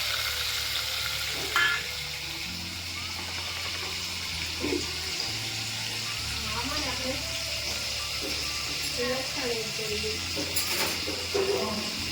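Cumin seeds and curry leaves tempering in hot oil produce a continuous close sizzle and spatter, with faint speech in the background and a few sharp knocks.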